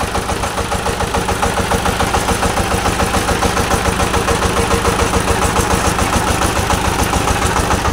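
A power tiller engine runs steadily at idle, a loud, even mechanical chug with a regular fast pulse throughout and no voices.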